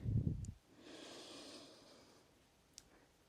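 A forceful breath pushed out during a core-strengthening exercise, with a loud burst of air at the start that trails into a softer, airy hiss before fading to near silence.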